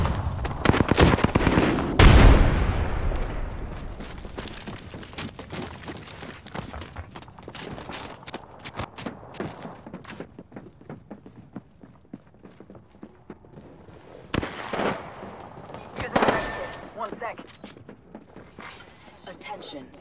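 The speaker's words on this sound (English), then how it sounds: "I am taking fire." Gunfire in an Apex Legends match: sharp scattered shots, a couple of loud close bursts early and later, with quieter distant pops between and game voice lines over the action.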